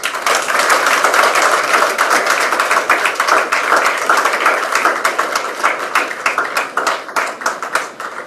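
An auditorium audience at a school's golden inauguration event bursts into steady, dense hand-clapping applause for a speaker, loud and close at first, then thinning gradually into scattered claps toward the end.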